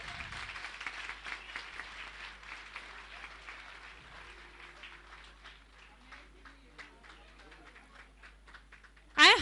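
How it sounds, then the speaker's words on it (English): Scattered audience applause at a school annual day carries on at moderate level, thinning into sparse individual claps before a sudden loud burst at the close. "S.I. Vaishnavi, please keep applauding for them"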